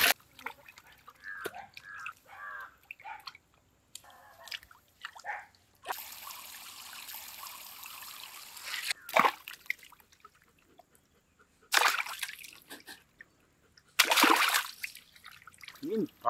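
Water splashes and trickles while fish is washed for a Sri Lankan village-style curry with mango, with broadband pouring bursts and drips between stretches of nearby talk.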